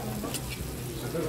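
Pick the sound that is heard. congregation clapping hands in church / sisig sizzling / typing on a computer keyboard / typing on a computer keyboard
sisig sizzling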